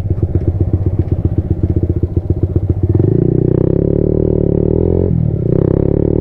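A motorcycle rides a rough, potholed village road, first chugging in a rapid rhythmic putter, then revving into a loud steady drone with a brief dip near the end, close and with no talk.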